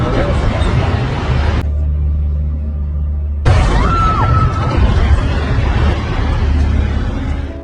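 A car blows up from a bomb of cash hidden in its trunk, a film effect heard as a deep, loud rumbling burst that cuts out, then returns as a broad roar, with a voice narrating over it.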